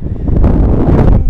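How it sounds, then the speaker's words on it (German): Fresh wind on the Atlantic coast buffets the microphone in a loud, steady low roar with gusty swells, close and unbroken, with no voices. "frische Wind hier am Atlantik."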